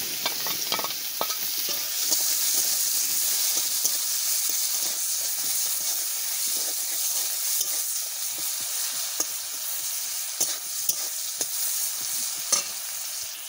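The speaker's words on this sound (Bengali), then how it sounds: "এবারে আমি পেঁয়াজ কুচি দিয়ে দেবো" Chopped onions sizzle and spit in hot oil with toasted cumin seeds for an egg curry, a steady broad frying hiss throughout, with occasional stirring clicks and no voices.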